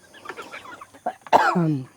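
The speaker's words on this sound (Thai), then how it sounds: "ไก่เขาก็กินสุดฤทธิ์สวาปาม" Chickens feeding greedily on winged termites cluck close by in a short, uneven series of calls, ending in a louder drawn-out squawk.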